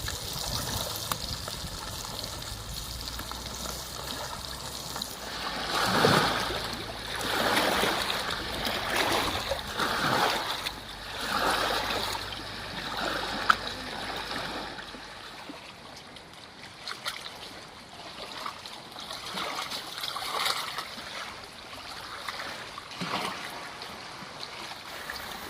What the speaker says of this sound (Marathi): या साईडला बघा किती भारी लाटा सुटल्यात